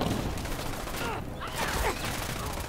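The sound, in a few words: gunfire from the video game Fallout 4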